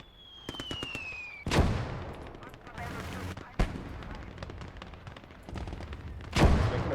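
Mortar and field howitzer fire in the WWII game Gates of Hell: Ostfront, with sharp booming blasts near 1.5, 3.6 and 6.4 seconds over a steady rumble of distant gunfire and a falling whistle at the start.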